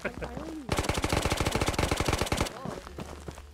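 Rapid automatic gunfire in the VR game Ghost of Tabor, a loud close burst of about two seconds of evenly spaced shots, with people talking before and after.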